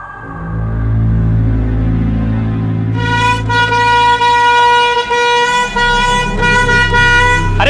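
Loud, sustained horn blasts blare close by, a steady tone shifting into a brighter, harsher honk that keeps sounding over engine rumble.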